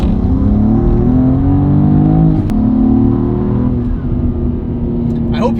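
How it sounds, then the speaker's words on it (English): A 2023 BMW M2 G87 driven under load, its engine droning loud and steady close to the cabin, with pitch sweeps as revs rise and fall and a brief intake whoosh on lift-off, followed by crackling exhaust burbles near the end. "I hope you guys can hear that intake just going pew every time I let off of it, and then the exhaust burbles too."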